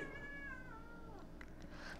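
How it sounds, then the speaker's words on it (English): Cats play fighting let out a drawn-out, wavering meow that rises into a yowl, followed by a few faint squeaks, quiet and somewhat distant. "Okay, the cats are, they're play fighting"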